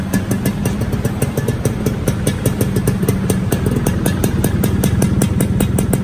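A Suzuki Xipo 2000 two-stroke motorcycle engine runs steadily up close, a loud, even, rapid pulsing idle that holds throughout with no voices.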